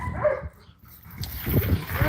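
A puppy whimpers and yips in short broken bursts, close by, with rustling and low background noise between the cries.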